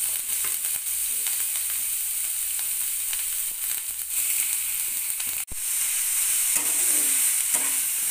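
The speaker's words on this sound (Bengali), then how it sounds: "ফোড়ন ভালো করে ভেজে নেওয়ার পরে কুড়ে রাখা বিটটা দিয়ে দিলাম" Grated beetroot fries in oil with tempering spices on a gas flame at full heat. It makes a loud, dense, continuous sizzle with scattered crackles, briefly cut off once, then resuming strongly.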